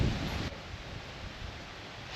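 Steady wind blows outdoors around a cabin cooking setup, a broad rushing noise with a stronger gust at the start, fairly faint and with no talking.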